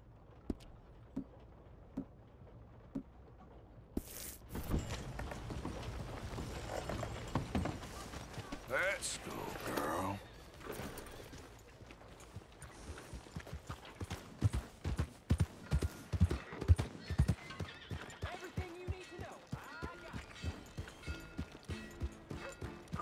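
Horse hooves clip-clop in a rhythmic trot while riding in Red Dead Redemption 2, the steady beats growing busier and louder midway, with talk over the game sounds.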